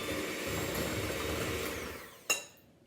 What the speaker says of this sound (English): Let's go for the electric whisk.